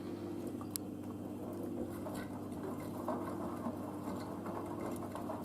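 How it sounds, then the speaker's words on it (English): A Blomberg WNF9448 washing machine runs a low-level rinse on a synthetics 40 cycle with dressing gowns: a steady low mechanical hum and churning with faint sloshing, continuous and moderately close. "the machine is just cut down to low level rinse for some reason"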